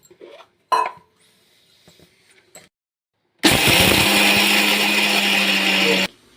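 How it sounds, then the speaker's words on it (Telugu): A kitchen mixer grinder switches on after a few faint clicks and handling noises, running loud and steady with a constant motor whine for about three seconds before stopping abruptly. "మిక్సీ పట్టాలి."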